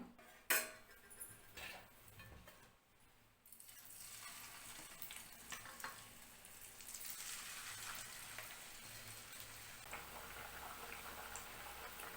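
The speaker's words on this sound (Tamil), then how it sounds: "இப்போது நம்ம எண்ணெயில் பொரிக்கலாம்" Pieces of bottle gourd fry in hot oil, giving a steady sizzle that swells louder partway through, with a sharp utensil clack near the start and a few light clinks.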